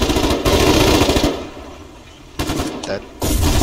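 Gunfire in the war game Foxhole, with dense rapid bursts of rifle and machine-gun shots that come in loud stretches, break off into a quieter gap, then resume sharply, and a voice can be heard faintly in the mix.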